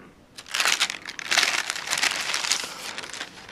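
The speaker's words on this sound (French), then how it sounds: "je vais ouvrir le paquet" The packaging of an official HTC One S leather phone case is opened, giving close, loud crinkling and rustling of plastic and paper that rises and falls in bursts.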